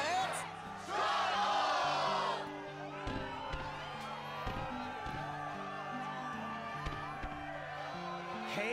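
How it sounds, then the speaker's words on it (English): Crowd cheering in the Kingdom Hearts 2 video game, a short burst of cheering early on that fades beneath the game's background music and effects for the rest of the clip. "the crowd is fired up"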